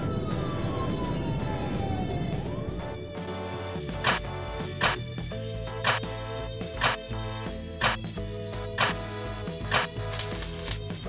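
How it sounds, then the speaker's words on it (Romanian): Police car siren in a children's cartoon: a gliding wail at first, then a run of rhythmic pulsing tones over a busy electronic backing, moderately loud. "Mașină de poliție."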